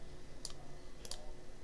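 Computer mouse clicks during architectural design work on a library green roof model, two quiet sharp clicks, the second a quick double, over faint room hum.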